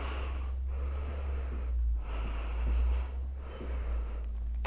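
A deep breath in during a yoga prayer twist in a vinyasa flow class, heard as close, airy inhalations and exhalations through the nose, two long breaths separated by short pauses over a low steady background hum.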